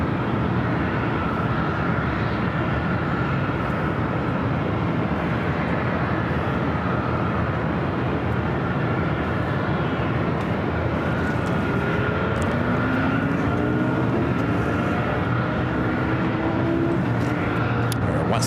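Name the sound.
airliner taking off at LAX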